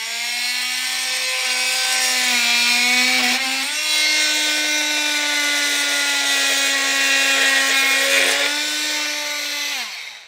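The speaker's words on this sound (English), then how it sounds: "So we'll just take our multi-tool and cut it out." An oscillating multi-tool cuts through a plastic gusset on a base plate bracket for a 2023 vehicle, giving a steady, loud, close buzzing whine that runs nearly continuously with two brief dips in pitch as the blade loads up.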